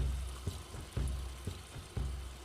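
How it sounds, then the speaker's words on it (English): Soft, steady sizzling of food in a pan on a homemade wood stove, with faint regular taps about every half second; no voices. "it's sizzling good"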